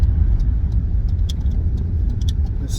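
Steady low rumble of a Rover 25 car driving along a road, heard from inside as constant engine and road noise with faint higher clicks, no talk.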